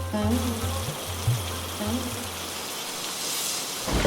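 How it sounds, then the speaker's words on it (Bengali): Heavy monsoon rain pours steadily as a dense broadband hiss, with low tonal music or voice-like hums underneath in the first half, swelling louder near the end. "এ দেখ, কি বৃষ্টি শুরু হয়েছে!"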